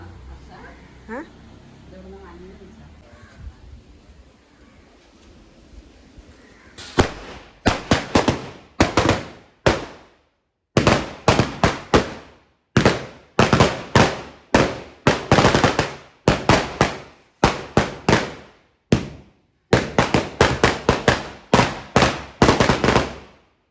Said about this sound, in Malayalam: ഉച്ചയൂണ് കഴിച്ചേന് ശേഷം ഒരു വെടിക്കെട്ടുണ്ട്